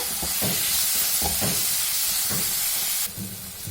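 Chopped tomatoes frying in a little oil in a pan for a bottle gourd chutney, giving a steady close hiss and sizzle with faint scraping taps from stirring.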